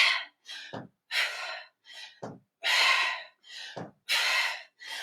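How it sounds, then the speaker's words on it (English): Forceful breaths during a boot camp workout come in sharp, close bursts, each exhale loud and breathy, some closing with a short voiced catch, repeating about every second with brief silences between. "Use the breath as you lift. Exhale into the work."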